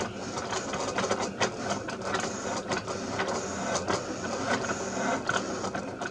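A Cricut cutting machine cuts Dollar Tree window film, giving a close, continuous, busy mechanical whirring with rapid ticking carriage movements throughout and no one speaking.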